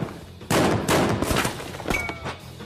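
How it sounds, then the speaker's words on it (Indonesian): Gunfire as Dao Feng shoots during a Donnie Yen action film, heard as a short cluster of loud, reverberant shots in quick succession, without talk. "Dao Feng langsung menembakinya"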